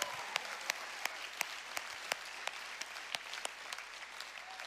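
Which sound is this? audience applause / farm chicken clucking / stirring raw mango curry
audience applause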